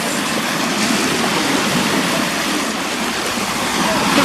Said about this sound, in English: The water does sound lovely.